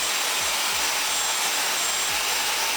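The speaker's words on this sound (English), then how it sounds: "I'm gonna just use a blow dryer." A blow dryer runs in one steady, loud, continuous rush of air, drying hair treated with a two-step protein treatment, with no talking over it.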